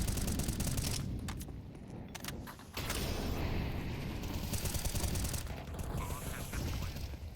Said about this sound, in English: A lot of bullets being thrown